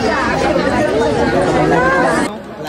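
Crowd chatter in a waiting queue at a Ganesh temple on an Ashtavinayak pilgrimage, a dense, loud babble of many overlapping nearby voices that drops off abruptly near the end.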